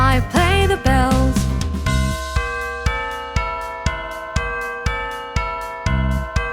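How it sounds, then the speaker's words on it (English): A run of bright, ringing bell tones struck one after another in a steady rhythm, each note sustaining and decaying before the next, following a brief sung phrase, clear and close in a children's song. "I play the bells."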